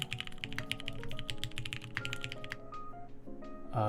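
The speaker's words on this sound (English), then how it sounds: "is the typing sound sub alert new?" Rapid mechanical keyboard typing, used as a stream subscriber alert on a KBD19X keyboard build stream, clatters in close, dense keystrokes, thinning briefly before a final burst, over a soft musical background.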